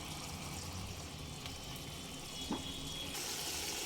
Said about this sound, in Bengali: মিক্সিং জার ধুয়ে অল্প জল দিয়ে দিলাম